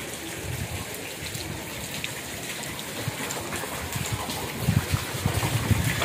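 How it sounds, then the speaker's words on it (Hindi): Steady morning rain pattering on surfaces, a dense even wash of drops with a few heavier splashes toward the end. "अच्छी खासी बारिश हुई।"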